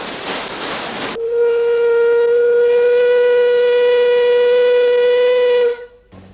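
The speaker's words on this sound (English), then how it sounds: "A last whistle blast to call any late arrivals to the wharf" The paddle steamer Melbourne sounds one long, loud, steady steam whistle blast at the wharf on the Murray River in Mildura, holding for several seconds before cutting off, with no voices.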